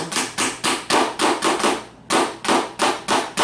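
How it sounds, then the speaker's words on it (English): A small watchmaker's hammer taps in a steady rhythm, about eleven sharp metallic strikes close by, with a brief pause midway. "I've got this little watchmaker's hammer"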